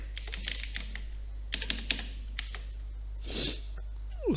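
An email address is typed on a computer keyboard in short clusters of close, crisp key clicks over a constant low electrical hum, with no speech.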